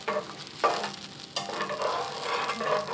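Gravy for loco moco, a Hawaiian burger on rice, simmers and sizzles in a pan while being cooked until dark brown, with a steady close frying hiss and a couple of louder stirring scrapes.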